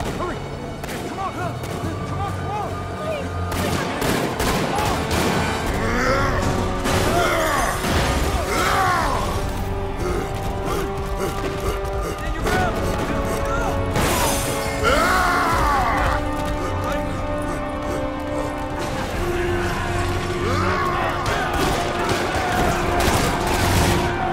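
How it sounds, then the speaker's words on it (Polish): Gunfire from Spider-Man Remastered as Rikers prisoners attack police barricades in Harlem: dense, overlapping shots and crashes running throughout, with someone talking over the fighting. "Jeszcze strzelają do nich."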